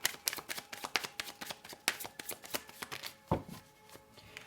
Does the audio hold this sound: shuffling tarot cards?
yes